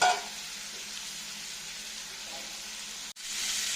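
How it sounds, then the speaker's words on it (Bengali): Chicken pieces frying in butter in a pan for a peanut butter chicken dish, a steady close sizzle that runs throughout, with a brief cutoff near the end before the frying resumes. "বেশি লাল করে ভাজবো না, খানিকটা একটু ভাজা ভাজা হয়ে গেছে।"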